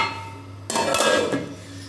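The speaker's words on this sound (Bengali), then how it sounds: "এবার আমি এটাকে একটু ঢাকা দিয়ে দেবো।" A lid set onto a cooking pot at home gives one sharp metallic clank that rings briefly over a low steady hum, with no speech.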